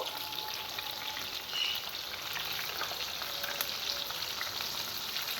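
Chicken pieces for chicken manchurian fry in oil, a steady close crackling sizzle running throughout with faint pops and no voices.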